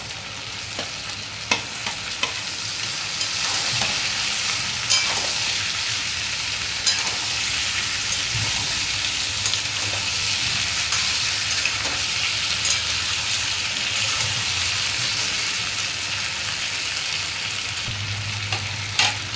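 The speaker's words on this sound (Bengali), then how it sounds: "এবার দিয়ে দেবো কেটে রাখা টমেটো" Chopped tomatoes go into hot oil and garlic paste in a pan for a Bengali katla fish curry with cauliflower and potato, giving a steady loud sizzle and frying hiss with occasional stirring clicks throughout.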